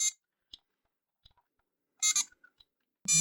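A Transformers G2 Tiger Electronics handheld LCD game gives short, shrill electronic beeps in sparse, irregular bursts, with near silence between them.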